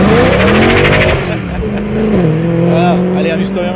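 A BMW M3 E92 with its V8 revs loudly and close at the Nürburgring, its engine note climbing and falling in steady sweeps, with a short slide and tyre noise mixed in.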